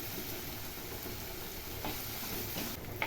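Onions sautéing in a pan until golden brown for a stuffed okra masala gravy, a steady close sizzle with faint scraping stirs, even in level and heard on its own without voices.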